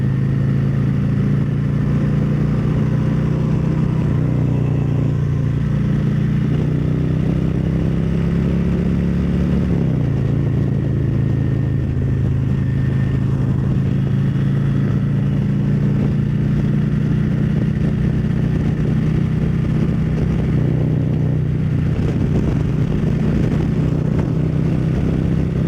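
Steady, loud motorcycle engine drone at highway speed in fourth gear around 70 mph, kept under 4,000 RPM with swapped exhaust baffles; continuous mid-pitched hum with a brief dip partway through as the throttle eases, then carries on evenly, no talking.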